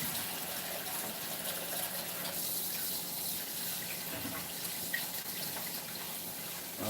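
Tap water runs steadily into a pan being rinsed of spaghetti sauce, a continuous splashing gush close by with small shifts in tone and no one speaking.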